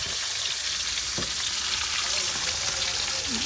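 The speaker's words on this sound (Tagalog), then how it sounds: "Yung mantika niya guys, tumalsik sa mukha ko." Dried milkfish (daing na bangus) fries in hot oil, a loud dense sizzle with crackling spatters that carries on unbroken close to the pan.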